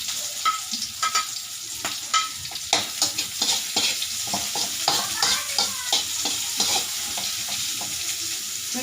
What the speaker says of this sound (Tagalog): Ilagay na natin itong ating onion.